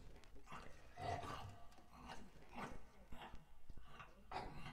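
A dog in the horror video game Real Stories From The Grave: Volume 1 whimpers faintly in short soft cries, mixed into a murky, noisy ambient backdrop.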